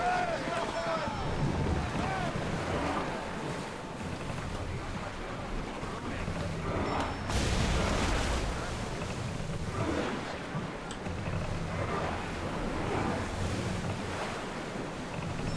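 Open-sea sailing on a Greek warship in Assassin's Creed Odyssey: a steady wash of waves and surf with wind rushing across the microphone, continuous and fairly loud, with voices calling out over the water.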